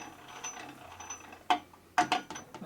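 A 1965 Harley-Davidson Panhead 74ci engine under rebuild makes faint mechanical ticking as it is turned, with soft low rattling punctuated by two or three sharp metallic clicks, close up in a quiet workshop.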